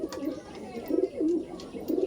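Giribaz pigeons in a loft give close, rolling coos in several bursts, separated by brief pauses.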